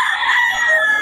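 A brief, close, strained rooster-like call from chickens at a Bocaue market sounds alone for about a second.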